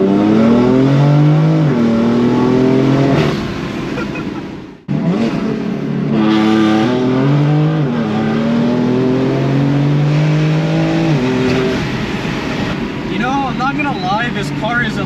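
A 2018 BMW M4 (F82) engine revs hard through a rolling pull in second gear, pitch climbing steadily, cutting briefly at a gear shift, then surging and rising again, loud and close.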